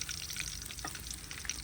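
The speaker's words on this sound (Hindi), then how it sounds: "मछली हमारी कुछ इस तरह से फ्राई हो चुकी है" Fish frying crisply in a pan in a Pakistani village kitchen, a dense, even crackle and sizzle with small pops, quiet and steady throughout with no voices.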